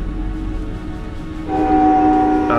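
A train horn sounds in a strategy video game, starting partway through as a loud, sustained chord over a low steady rumble.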